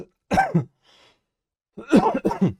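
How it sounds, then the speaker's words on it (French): Two bursts of harsh coughing, a single cough followed by a quick double cough after a short pause, close and fairly loud. "Et je tousse."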